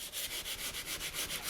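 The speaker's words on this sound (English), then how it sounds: "And we can wet sand that edge down" Close, quiet wet sanding of water-based material along the edge of a kitchen cabinet, a soft rhythmic rubbing in quick back-and-forth strokes, about seven per second, with no voices.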